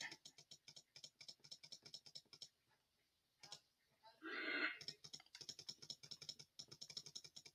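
Rapid, rhythmic clicking while playing Cat Clicker MLG, close and crisp, broken by a short pause and a brief whooshing burst before the fast clicks resume.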